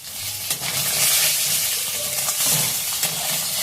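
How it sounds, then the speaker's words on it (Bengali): Pieces of rohu fish fry in hot oil, giving a loud, steady crackling sizzle with occasional pops and a slight scrape as a piece is turned, and no voices. "আর এক পিসটা উল্টে দিলাম, লাল লাল করে ভাজা হবে"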